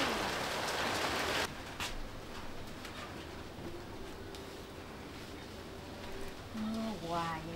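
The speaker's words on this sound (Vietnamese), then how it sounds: "Mưa hoài vậy trời." Steady rain falls on surfaces outdoors at a pitaya farm, a dense hiss that is loudest at first and then settles into a constant patter, with a faint bird call near the end.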